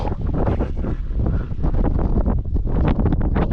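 Strong wind during a typhoon buffets and roars continuously across the microphone, loud, close and unbroken throughout.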